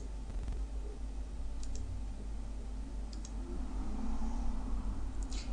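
Mouse button clicks while using the Firefox browser on a computer, a few faint sharp clicks spaced a second or more apart over a steady low background hum.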